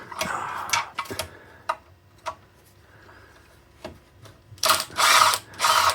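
A ratchet backs out the oil pan screws on a project car during a piston removal job, giving several short bursts of quick clicking separated by pauses, close and fairly loud, with a longer stretch of ratcheting near the end.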